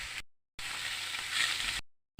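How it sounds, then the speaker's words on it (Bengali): Eggs frying in a pan with onion, giving a bright steady hiss close by, cut off by two short gaps of complete silence, with no talking. "ডিম দুটোকে সুন্দর করে ভেজে নেবো একটু"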